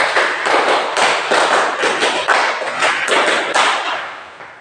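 A group in a classroom guidance session claps in a rhythmic counting game, loud close bursts of many hands striking together in quick, roughly regular clusters with no talk over them.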